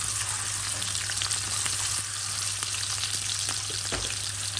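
Ginger sliced for sweet and sour fish drops into hot oil and sizzles steadily, a close, dense crackling hiss with a low hum underneath and a few light stirring clicks.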